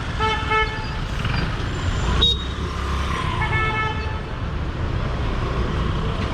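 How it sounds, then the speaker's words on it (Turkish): Car horns honk loudly in busy traffic at a four-way junction in Bornova, Izmir, one long blare followed by a shorter one over a steady rumble of engines. "Bangladeş gibi durmadan kornaya basıp duruyorlar."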